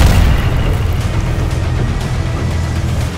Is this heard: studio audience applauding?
no